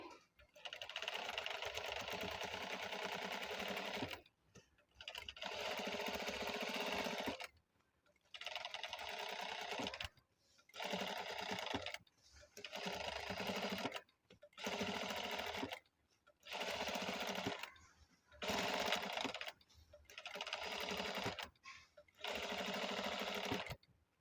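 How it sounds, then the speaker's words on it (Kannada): Sewing machine stitching a round-neck blouse, running in steady bursts of a few seconds each with brief pauses between, close and loud. "ಇವಾಗ ಫಸ್ಟ್ ಸ್ಟಿಚ್ ಮಾಡೋಣ."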